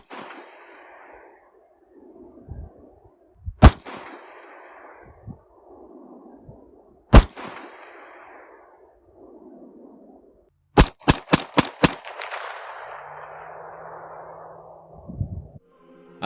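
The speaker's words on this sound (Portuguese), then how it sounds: "como é o som de uma Tokarev disparando o calibre 762x25mm" A Tokarev TT-33 pistol firing 7.62x25mm rounds gives sharp, loud single cracks, spaced apart at first, then a quick string of four or five shots, over a faint background hiss with no voices.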